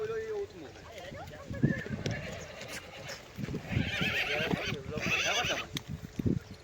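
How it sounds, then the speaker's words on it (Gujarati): A horse whinnies and neighs several times up close while hooves clip-clop on the ground, with people talking over and around it. "ઘોડો બતાવવા આવ્યા"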